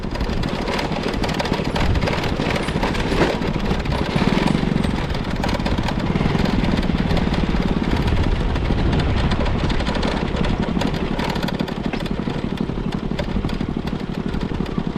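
An old vehicle's engine runs loudly and without a break, a rough, rattling drone close by that holds steady throughout.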